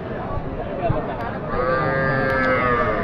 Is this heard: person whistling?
no